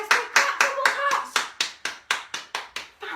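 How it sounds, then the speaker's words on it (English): Children at a Tumble Tots session clapping their hands together in a steady, even rhythm, about a dozen sharp claps close by, with faint voices behind them. "give yourselves a nice big clap, Tumble Tots"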